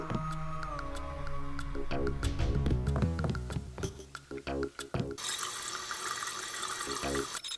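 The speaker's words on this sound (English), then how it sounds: "Wash my hands for a little bit." Tap water runs into a sink in the video game Deus Ex during hand washing, a steady close splash under game ambience that shifts to a brighter, hissier flow partway through, with no talk.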